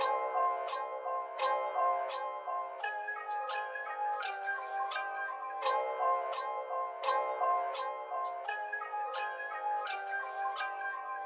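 A dark music sample, pitched up one step and EQ'd so the bass is cut, plays as a thin, mid-heavy loop with regular sharp chopped hits and no low end.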